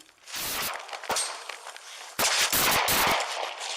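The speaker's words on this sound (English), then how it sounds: "Both officers returned fire." Police officers fire their service weapons in rapid bursts of gunshots, some cracks close and loud, others in quick overlapping volleys, with no talking.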